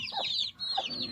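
A Pakistani hen and her chicks cluck and peep in quick bursts close by, with a short pause in the middle.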